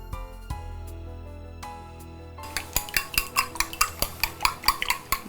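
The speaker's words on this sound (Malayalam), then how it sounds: "ഇനി ഇച്ചിരി ഉപ്പും കൂടി ഇട്ടിട്ട് സ്ക്രാമ്പിൾ ചെയ്യും" Three eggs with a pinch of salt are whisked in a bowl: after a single ringing clink, about a dozen quick, even utensil taps beat out a brisk, close rhythm.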